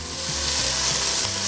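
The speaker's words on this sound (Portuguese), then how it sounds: "E agora a gente vai fritar essa cebola na gordura do camarão junto ao bacon." Chopped onion frying in rendered shrimp fat with bacon in a pan for a shrimp risotto, a steady, close, loud sizzle and crackle with a little stirring and no voices.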